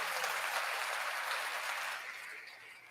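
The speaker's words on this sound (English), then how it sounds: "are you waiting for the applause to die down?" Dense, steady audience applause fills the room at a live comedy show, loud and continuous before thinning out slightly toward the end.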